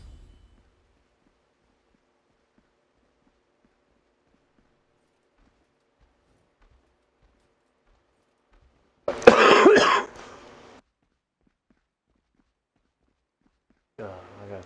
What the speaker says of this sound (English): I got a slight cough.